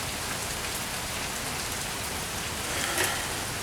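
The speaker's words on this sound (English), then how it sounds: "the rain drowning it out" Steady, dense rainfall pattering on surfaces outdoors in Louisiana, a constant broadband hiss that stays even and loud for a few seconds, with no voices over it.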